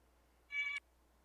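A single short cat meow, high and tonal, lasting under half a second against a quiet room background with no one talking.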